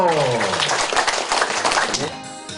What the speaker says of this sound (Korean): 우리 다 같이 힘차게 박수 한번 올려주세요.